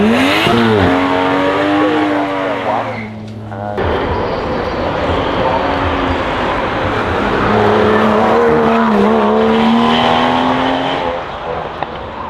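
Aston Martin DBS Volante with a 5.9-liter V12 producing 510 horsepower, its engine revving loud and close in rising and falling sweeps, with a brief dip before building again.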